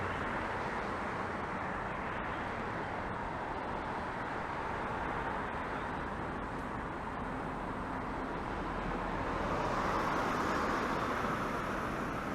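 Steady roadside traffic from two busy lanes in Toronto, a continuous broadband rush of passing cars with a slight swell near the end, no voices.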